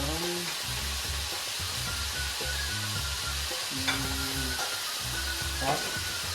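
Pork fries in its own rendered fat for Bicol Express with a constant sizzle and hiss. A low, wavering hum runs underneath, and a few faint clinks come through.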